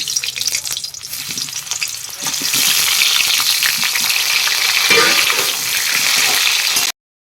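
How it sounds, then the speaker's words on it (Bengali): Potato and papaya hit hot oil in a wok and burst into loud, crackling frying. It builds from a quieter start and holds a dense, close sizzle before cutting to silence at the end. "একসঙ্গেই আলু আর পেঁপে ভেজে নেব"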